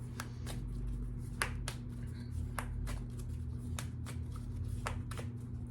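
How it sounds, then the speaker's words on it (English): Tarot cards are shuffled and pulled by hand, giving a run of soft, close, evenly spaced riffles and flicks over a low steady hum, with no talking. "see if we need to pull a card for the Emperor"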